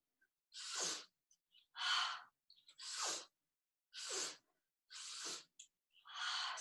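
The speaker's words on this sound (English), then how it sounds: "Exhale through an open mouth as the arms release down" Six long, breathy exhales through an open mouth during a yoga session, evenly spaced and close, each a soft airy whoosh separated by quiet pauses.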